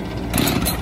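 A chainsaw engine catches and sputters briefly after quick pull-cord pulls, with the choke on and the decompression button pressed, outdoors during tree removal; a short, loud, rough burst of running engine noise.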